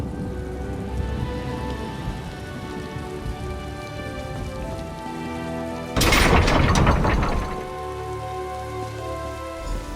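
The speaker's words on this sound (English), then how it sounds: "Shouldn't the storm be growing weaker?" Storm in Elder Scrolls Online at Sea Keep, heavy rain pattering steadily throughout, broken by one loud crack and rumble of thunder midway that rolls on for about a second before the downpour continues alone.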